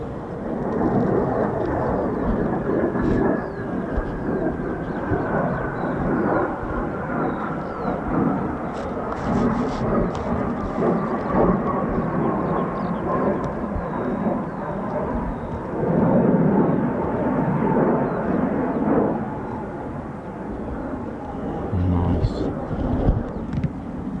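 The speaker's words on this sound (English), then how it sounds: "Could be that F-15 that came in on its own," An F-15 fighter jet making a low approach at RAF Lakenheath, heard as a loud, steady jet roar that persists throughout with a slowly falling whine on top, mixed with wind buffeting on the microphone.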